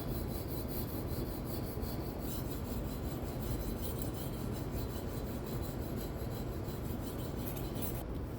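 A handmade chef knife has its edge sharpened in a continuous rasping scrape that runs steadily throughout, close up and with no voices.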